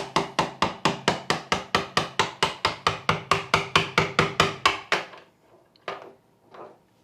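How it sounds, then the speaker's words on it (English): Hammer tapping a screwdriver to drive a door hinge pin upward: about twenty quick, evenly spaced metallic taps close up, then a pause and two softer knocks, with no talking. "get you a hammer, and just tap it up"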